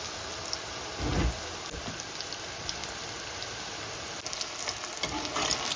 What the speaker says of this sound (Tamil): கத்திரிக்காயை கொஞ்சம் பொறிச்சு எடுப்போம்